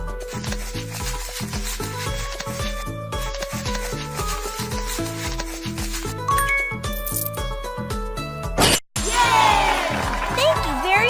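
In a kids' jungle animal hair salon video game, cartoon scrubbing and rubbing effects repeat over bouncy background music, ending in a brief burst of brighter scraping sounds.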